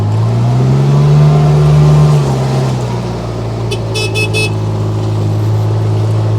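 A 2021 Kubota RTV-X1140 4x4 four-seater utility vehicle with a dump bed drives in low range, its engine a loud steady drone that swells briefly then settles, with a few short beeps partway through.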